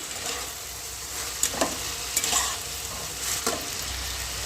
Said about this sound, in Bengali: সবজিটাকে ভালো করে ভেজে নেব